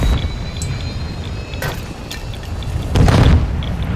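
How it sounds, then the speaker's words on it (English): A stun grenade detonates in Call of Duty DMZ, a sharp blast followed by a second loud boom with rumbling low-end noise and game ambience around it. "Stun grenade out!"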